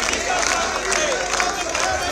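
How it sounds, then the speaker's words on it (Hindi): Members of parliament applauding as the Prime Minister enters a hall, a dense, steady wash of clapping with crowd murmur, continuous and fairly loud throughout. "सांसद थे वो खड़े हो गए और ताली बजाकर उनका स्वागत किया गया"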